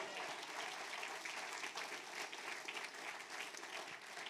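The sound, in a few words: congregation applause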